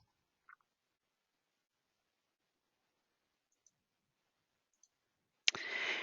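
A computer mouse clicks a few times, faint and widely spaced in near silence, while running a report in business software, followed by a sudden louder burst of noise at the end.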